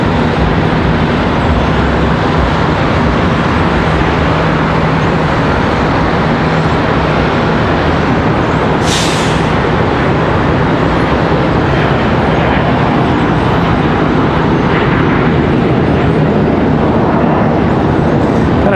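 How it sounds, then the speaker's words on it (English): Embraer regional jets depart in quick succession from Charlotte Douglas International Airport, producing a loud, continuous broadband engine roar with a low steady rumble that stays strong across the whole stretch, with no voices. "Gonna rapid fire depart these ERJs."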